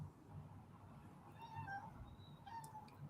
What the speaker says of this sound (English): Y'all hear this cat?